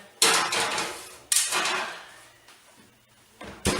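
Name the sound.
pan of mussels put back into the oven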